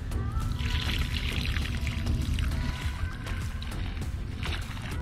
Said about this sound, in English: So here we go, 64 ounces of water